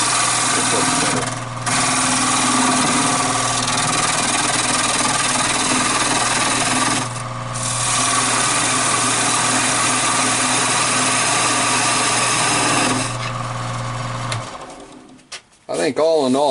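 A lathe makes a very light squaring cut on the end of a workpiece, its motor humming steadily with a thin scraping tone that dips twice briefly, then winds down and stops near the end.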